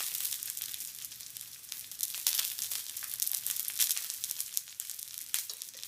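Wild duck breasts searing in a pan on the stovetop, giving a steady, dense hissing sizzle with crackling spits throughout, fairly close and with no talking.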